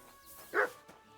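A single short dog bark from a dog in Kingdom Come: Deliverance 2, fairly faint and quick, standing alone in a quiet moment.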